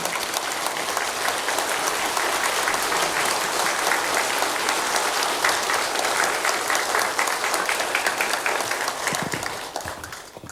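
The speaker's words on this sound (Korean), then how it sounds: "우리 다 뜨겁게 박수로 주께 영광 돌립니다." Warm congregation applause at a church festival service, a dense, loud wash of many hands clapping steadily for about ten seconds before tapering off at the end.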